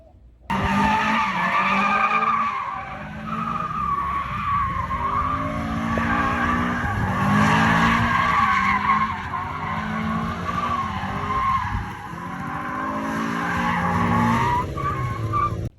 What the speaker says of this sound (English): ended up doing a couple donuts just to see if the car would actually do it with the NASR.